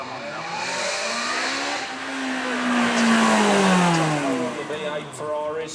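A twin-turbo 3.9-litre V8 Ferrari accelerates hard at a supercar show, its engine note climbing and sweeping in pitch as it passes fairly close, loud and continuous, with a second rise near the end.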